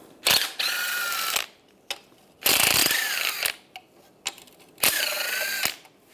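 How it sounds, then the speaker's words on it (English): A 13mm socket ratchet removes bolts during power steering rack work on a 1998-2010 Volkswagen Beetle, with several bursts of close, sharp clicking ratchet strokes separated by short pauses and small knocks. "Using a 13mm socket, take these 3 bolts out."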